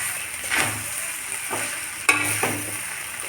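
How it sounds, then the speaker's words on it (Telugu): Potatoes frying in a pan for masala rice, with a steady oily sizzle and several scraping stirs of a spatula, including one sharp clatter against the pan. "ఈ పొటాటోలు అన్నీ ఫ్రై అవుతాయి."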